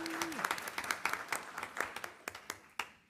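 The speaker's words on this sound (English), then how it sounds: "Everyone clap" Audience applause at a county school board meeting, a moderate patter of clapping from a seated crowd lasting a few seconds, fairly distant and even, with a brief tone fading at the start.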